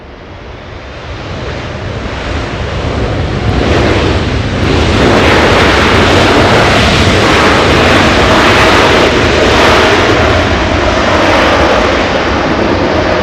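An Air China airliner exits the runway and taxis at Los Angeles International Airport, its loud jet engine roar swelling over the first few seconds and then holding as a broad, steady rush.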